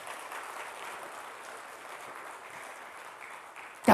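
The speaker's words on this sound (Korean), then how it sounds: "박수 한번 주셔야 돼요, 그거는." An audience at a church family seminar claps in a steady, dense patter that holds evenly for several seconds, ending with a sudden louder thump.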